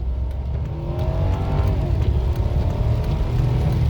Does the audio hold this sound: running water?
no